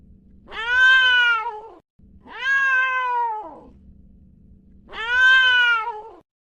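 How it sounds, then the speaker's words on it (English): A cat meows three times in long, clear, drawn-out calls with short pauses between them, close and loud with no other sounds around. "Yes, the cat says meow."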